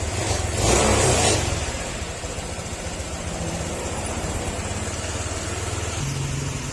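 Honda Click 150 scooter engine idling with a faulty idle screw, the revs surging and dropping, a louder rise near the start before settling into a steady close-up hum.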